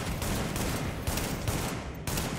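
Rapid bursts of gunfire from Tom Clancy's The Division fire in quick succession, a dense, loud rattle of shots pulsing steadily throughout.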